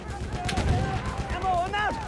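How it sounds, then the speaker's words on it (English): Machine gun fire in a multiplayer war game, distant bursts and booming shots blended with shouting voices and radio-style calls throughout. "Enemy machine gun sighted!"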